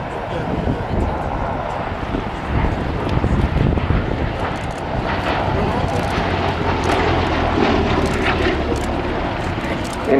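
A WWII RAF fighter with a fully enclosed cockpit flies past at the Shuttleworth airshow, its engine a broad continuous roar under wind noise while a commentator talks over it throughout.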